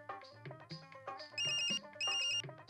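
An incoming call makes a phone ring with an electronic ringtone: repeated melodic tone bursts with two sustained high beeps, clear and close, with no one talking over it.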